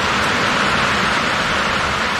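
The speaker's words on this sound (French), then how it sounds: "c'est juste la pluie" Steady heavy rain pours down during a storm, a dense continuous hiss of drops on surfaces close by, unbroken and with no voices over it.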